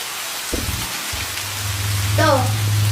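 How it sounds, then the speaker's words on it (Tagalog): Heavy rain pours in a steady hiss that swells over a few seconds, with a low hum running underneath. "Naku, lumakas na yung ulan."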